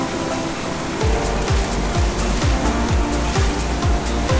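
Mountain creek water rushes and splashes over rocks in the Colorado mountains, a loud, steady broadband roar filling the whole clip with a faint low rumble underneath.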